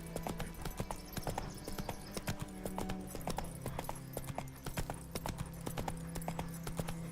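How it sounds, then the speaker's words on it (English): Horse hooves clip-clop steadily in the video game The Witcher 3, a clear rhythmic series of close hoof strikes against a low background hum, fairly quiet overall. "Clip clop, clip clop. Clip clop, on we hop."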